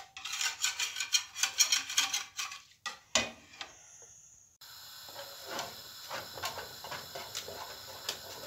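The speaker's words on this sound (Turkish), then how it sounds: "Şimdi ocağa koyup bunu böyle kaynayasıya kadar karıştıracağım." A spoon or whisk scraping and clinking against a metal pot as arabaşı soup is stirred on the stove, a quick rhythmic series of sharp ticks and rubs, then a steadier hiss with softer intermittent scrapes.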